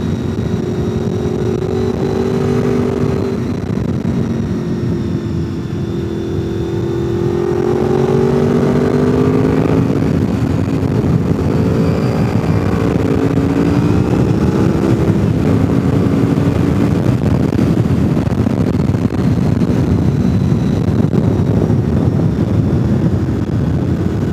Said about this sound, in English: I saw a yellow 2000 Honda VFR sitting lonely and dusty, and I figured I would take her out for a ride today.